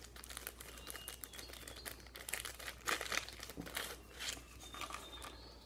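Stiff waterproof "Write in the rain" paper crinkles and rustles close by as it is handled, with irregular crackling bursts over a quiet background hum.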